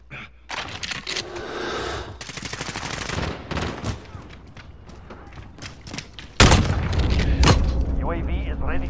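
Call of Duty gunfire crackles in rapid bursts and volleys, with heavy booms and a loud sharp blast near the end over a busy battle din, while voices shout amid the shooting.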